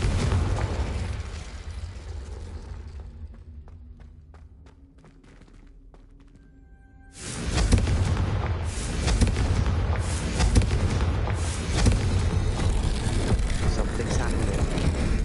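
A Confringo fire spell in Hogwarts Legacy sets off a heavy, roaring blast after a quieter stretch of faint ticks. A dense, loud rumble follows and keeps going for several seconds.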